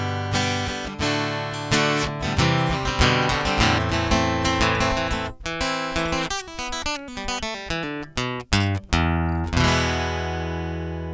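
Washburn WF11SCE folk acoustic-electric guitar heard through its onboard preamp, strummed chords followed by a run of picked single notes and a final ringing chord, close and full with no voice.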